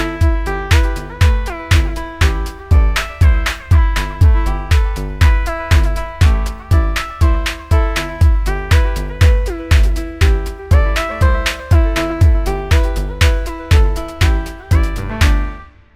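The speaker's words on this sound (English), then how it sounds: "create a DIY algorithmic groovebox known as the OnBoard Quadra." OnBoard Quadra, a DIY algorithmic groovebox built on an inexpensive microcontroller, plays a steady electronic groove: punchy kick-like pulses repeating on a regular beat under layered synth tones, loud and continuous throughout with no voices.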